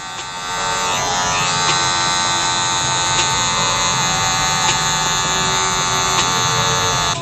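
Electric hair clippers run steadily while cutting a men's fade haircut, a close, continuous bright buzz with a few brief shifts in pitch as the blade flicks through the hair.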